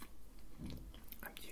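Someone bites and chews toast with strawberry jam close to the mic, soft crunchy bites and mouth sounds standing out over quiet room noise with faint whispering.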